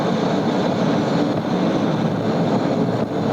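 DC-9 jet airliner engines at takeoff power on the runway, heard from the flight deck as a loud, continuous broadband roar with a steady rushing quality throughout.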